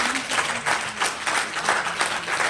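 Enthusiastic audience clapping at a Hindi poetry gathering (kavi sammelan and mushaira), a dense, lively burst of hand claps from a seated crowd that rises and falls in waves, fairly close and loud.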